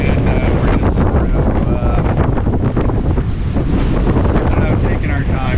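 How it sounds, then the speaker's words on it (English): Strong wind of about 21 knots buffets a reefed sailboat under way on the open Caribbean sea, roaring loud and close with gusty microphone rumble and rushing waves throughout. "The wind right now is around 21 knots."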